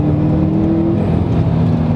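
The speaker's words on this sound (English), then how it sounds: "it makes a nice little turbo spool sound" A 2015 Subaru STI accelerating, with a steady engine drone and a whooshing turbo spool rising over it, close and loud throughout.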